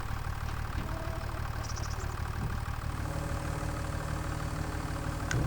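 Tractor engine in Farming Simulator 25 running at a steady idle, a continuous low mechanical drone with a faint rhythmic knock, close and even, with a brief higher tone near the start and no talking.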